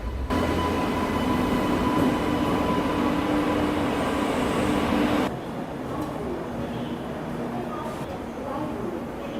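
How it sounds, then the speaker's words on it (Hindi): The Rewa Rajkot Express pulls into an Indian railway station with a loud, steady rumble and wheel roar that drops off sharply about halfway through, leaving a softer station hum. "और ये अराइवल हो रहा है रीवा राजकोट एक्सप्रेस का।"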